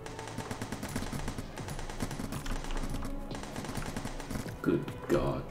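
Video game gunfire rattles in quick repeated bursts while enemies are shot, with a voice talking over the steady firing.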